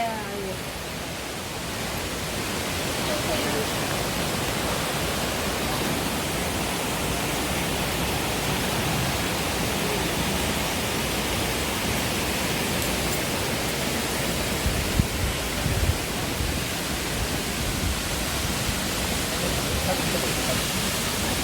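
A steady, dense roar of rushing water fills the whole clip, broad and unbroken like a large, high waterfall close by, in the Osaka area of Japan.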